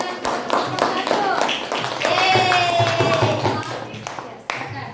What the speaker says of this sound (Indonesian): Oke, kita kasih tepuk tangan untuk kelompok 1.